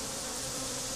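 A steady, dense hum of many honey bees buzzing up close at an open hive, continuous and unbroken with no voices.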